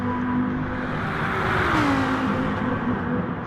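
Race car engines in a sim racing game at Autodrome Lago Maggiore drone steadily and loudly throughout, a sustained whine with a slight pitch sweep midway, no talk.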